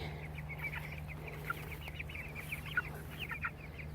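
Chickens in a small mobile coop cluck and murmur softly at a little distance, overlapping calls over a low steady hum, with no voices.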